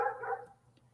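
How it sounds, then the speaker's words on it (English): A single short bark from one of four dogs kept together in a pen, fairly close, fading quickly into quiet. "You should see the pen that these 4 dogs are in"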